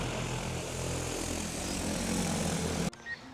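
A DJI Agras T50 agricultural spraying drone flies over farmland in Tokachi, its dense propeller whine steady and loud throughout, cutting off abruptly near the end.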